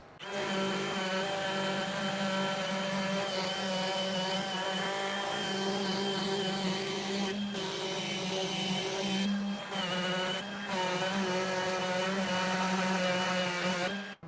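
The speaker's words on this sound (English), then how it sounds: "I'm gonna sand it before I start putting my slats on." Continuous high-pitched whine of an electric sander running against wood, steady and loud, with a couple of brief pauses before it resumes.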